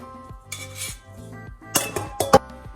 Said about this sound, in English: I'm gonna strain the liquid through the strainer again.